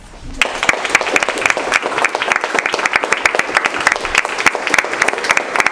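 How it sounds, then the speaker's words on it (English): Audience applause fills a room during a self-help talk, dense clapping from many hands starting after a brief quiet moment and holding steady and loud throughout. "give each other a round of applause"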